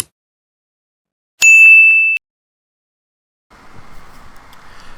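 A single bright notification bell ding rings out clearly with nothing behind it, holding for under a second before it stops. A faint, low background rustle follows a little later.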